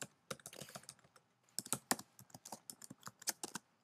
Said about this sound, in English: type a new password